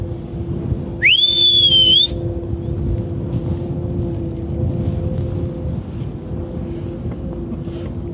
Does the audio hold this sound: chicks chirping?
no